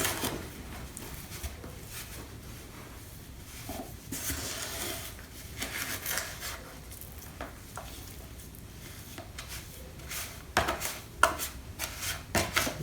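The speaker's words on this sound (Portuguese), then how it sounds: "Tô misturando com uma colher metálica, colher normal que você tem em casa" A metal spoon scrapes and stirs a thick creative concrete paste, giving soft, steady scraping with a few louder knocks near the end, close and without talk.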